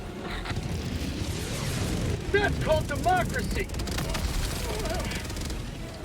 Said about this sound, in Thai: ต้นสปอร์ระเบิดแล้วใช่ไหม ระเบิดแล้วระเบิดแล้ว